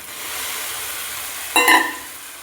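Potatoes and soybean chunks dropped into a hot frying pan with fried pointed gourd, a steady sizzle punctuated by a short, louder clatter as they land and are stirred.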